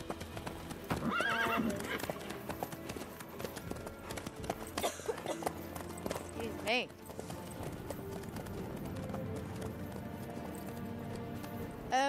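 Hooves clip-clop rhythmically under a horse in the video game Witcher 3, with a neigh mixed in, game music, and characters talking over the steady trotting.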